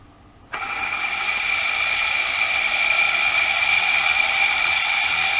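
A simple homemade brushless DC motor starts abruptly and runs with a steady high whine and hiss, holding a constant pitch, close and alone.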